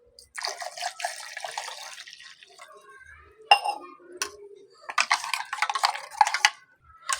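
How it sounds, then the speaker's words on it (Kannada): About a cup of water is poured into finely ground paste for pani puri, giving bursts of splashing and trickling with light clinks of kitchenware between quieter pauses. "ಇವಾಗ ಇದಕ್ಕೆ 1 ಲೋಟದಷ್ಟು ನೀರು ಹಾಕ್ಕೊಳ್ಳೋಣ."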